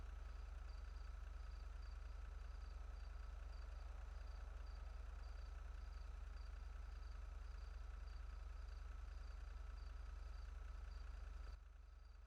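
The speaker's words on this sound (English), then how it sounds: "Notice how you can hear that very faint whine of a jet engine." A faint, steady whine from a jet engine near an airfield hangs under a low constant drone, distant and unbroken, with no one speaking, until it cuts off abruptly near the end.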